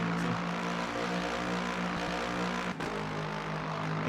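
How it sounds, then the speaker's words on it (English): Race car engine in the Le Mans Ultimate sim racing game held at high revs near the limiter, a steady loud droning tone with one brief dip partway through, no voices. "We will rev it out here. Maybe even go to the limiter."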